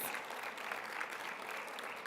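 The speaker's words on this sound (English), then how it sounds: "let's have another round of applause for all of today's award winners" Luncheon audience at an education awards event gives a round of applause for the day's award winners, an even wash of many hands clapping, fairly faint and distant, continuing steadily without talk.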